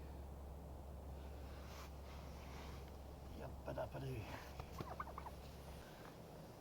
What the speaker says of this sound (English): Now this is the standard bronze turkey, the original version.